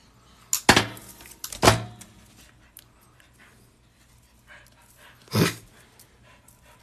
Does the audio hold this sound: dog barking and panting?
yes